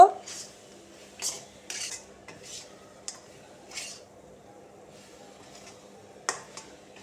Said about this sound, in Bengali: বাদামটা বেশ গুড়ের সাথে ভালো করে মিশিয়ে নেব